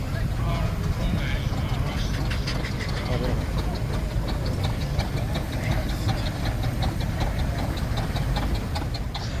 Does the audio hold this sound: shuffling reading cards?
no